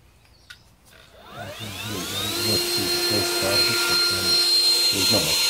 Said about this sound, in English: I'll come out with the blower, and there it is. Same brand, 82 volt.